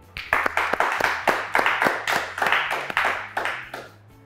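A studio audience applauds a quiz show contestant, a sparse, rhythmic clapping that reads as only a few pairs of hands. It keeps a steady, evenly spaced beat at close range for about four seconds, then stops.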